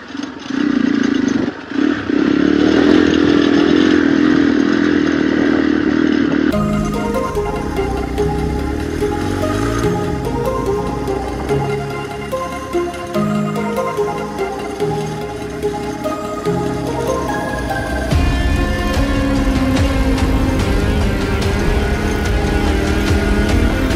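An off-road motorcycle rides a stony track near Rishikesh. Its engine drones steadily and close, with clattering and shifts in revs as it goes.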